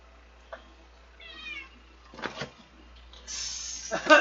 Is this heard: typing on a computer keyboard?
no